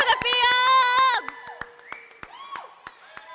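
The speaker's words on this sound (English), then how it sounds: "Please give a big round of applause for the Fields!" Wedding guests at the National Arts Centre in Ottawa break into applause and cheers with whoops as a couple is welcomed to the podium, loud at first with sharp claps, then quickly thinning to scattered claps.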